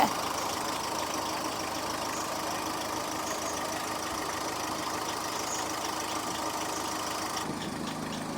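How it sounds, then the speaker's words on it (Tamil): A diesel 2005 Mitsubishi Lancer GLX engine idles steadily and evenly throughout, a low continuous rumble with a faint rattle, close by; the tone shifts slightly near the end. "இன்ஜின் ஸ்மூத்தாக இருக்குதுங்க."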